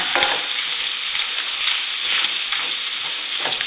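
A spoon stirs flour into melted sausage grease in a cast iron skillet, making steady scraping and a soft continuous sizzle for nearly four seconds, close and fairly loud with no talking.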